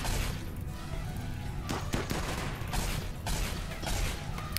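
Sustained volleys of gunfire from colonists shooting inside their base in RimWorld, dense overlapping shots and thuds continuing at steady loudness with no talk.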